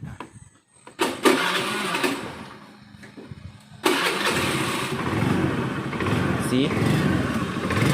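Honda Beat 110 scooter starting up: a brief starter burst, a pause, then the engine catches and settles into a steady, close idle. Someone speaks briefly over the starting noise.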